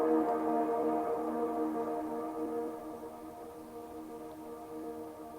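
A sound-design drone built from a music track hums as a sustained, tonal, siren-like tone with slight drift in pitch and volume, fading gently over several seconds and heard alone.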